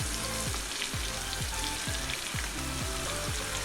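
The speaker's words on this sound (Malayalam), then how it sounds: "നമ്മുടെ ചെമ്മീൻ്റെ ഒരു സൈഡ് അത്യാവശ്യം നല്ല രീതിയിലൊന്ന് ഫ്രൈ ആയി വന്നിട്ടുണ്ടെന്ന് തോന്നുന്നു." Prawns frying in coconut oil for a Kerala-style prawn roast, a close, continuous sizzle with constant crackling spatter.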